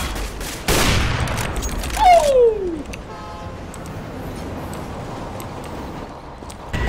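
Gunfire in the Counter-Strike GO map Overpass, shooting through a wall: a quick, loud burst of shots up close, followed by a falling whistling tone and quiet game ambience.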